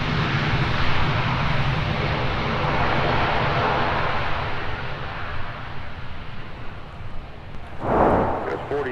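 CRJ regional jet touching down on the south parallel runway at Minneapolis–St. Paul airport, a sustained, fairly loud engine roar that fades toward the end, with a voice talking and a brief louder burst near the close.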